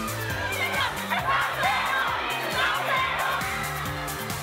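Vietnamese fans crowding a celebrity's arrival at an airport in Ho Chi Minh City, a dense, continuous roar of cheering and shouting voices that stays loud and close throughout.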